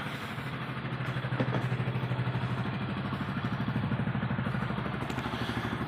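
A motorcycle engine idles steadily after starting, a rapid even putter at moderate distance, fairly quiet and without talk.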